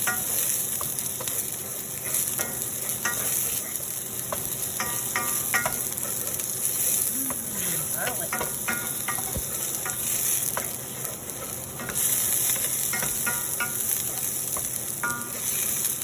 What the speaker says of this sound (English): I know you guys like that ASMR sizzle sizzle.